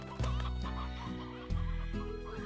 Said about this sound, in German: Achtung, das Steinhuhn, das kommt jetzt. Ach du guter Gott, jetzt habe ich da eine Million Gockel.